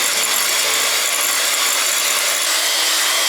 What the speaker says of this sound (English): So it took me 12 minutes of whisking to get to this consistency